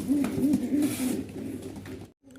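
Giribaz pigeons coo close by in a few soft, rolling calls, with a faint rustling background and a short pause near the end.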